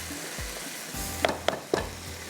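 Desi chicken is being browned in a karahi, and its soft, steady sizzle sits quietly in the background, broken by a few sharp clicks of stirring near the end.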